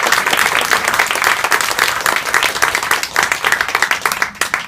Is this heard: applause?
yes